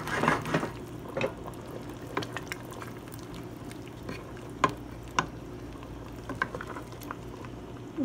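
Vegetables sizzle and patter in a large hot pan, a soft steady frying hiss broken by scattered stirring clicks and a few sharper pops, close and fairly quiet with no talking.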